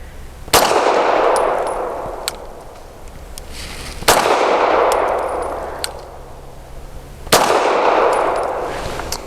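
A Sig M17 X Change pistol fires three loud, widely spaced shots, each a sharp crack followed by a long ringing echo that slowly fades before the next.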